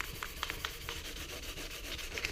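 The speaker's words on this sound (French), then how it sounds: "c'est parti pour le ponçage" Sanding a moped part by hand before spray painting, a steady rasping scrape with repeated strokes close by, no talking.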